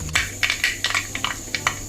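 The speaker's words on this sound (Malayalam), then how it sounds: "കടുക് പൊട്ടി തുടങ്ങി" Mustard seeds pop and crackle in a pan of hot coconut oil, giving a quick, irregular run of sharp close ticks over a faint sizzle, with no one speaking.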